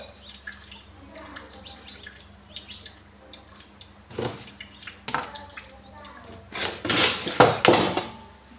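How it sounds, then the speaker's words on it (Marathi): Dishes, pots and pans are scrubbed and knocked together in a home wash area, scattered clinks and scraping clatter building louder toward the end, with birds chirping softly in the background and a voice talking at times. "घासायची भांडी."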